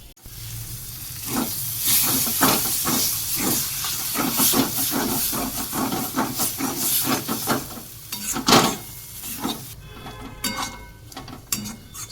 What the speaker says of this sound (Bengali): আলুটা ভালো করে ভাজা হয়ে গেছে এবার ওর মধ্যে কর্নটা মিশিয়ে দেবো